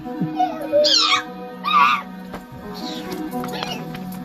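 A voice gives a few drawn-out, nasal meow-like cries in a playful imitation of a cat, close and fairly loud over a steady background hum.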